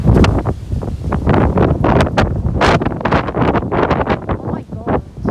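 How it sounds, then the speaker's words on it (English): Strong wind outdoors in the UK buffeting the microphone with loud, continuous gusty roaring and rumbling throughout. "It's really strong wind out here."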